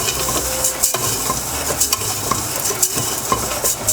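Risotto rice toasting in a hot pan with salt, a steady crackling sizzle under repeated spoon scrapes and taps against the pan, close and fairly loud.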